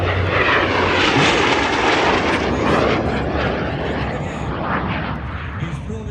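Airshow jets flying in tight formation at the California Capital Airshow, a loud, continuous roaring engine rush that swells slightly and fades toward the end.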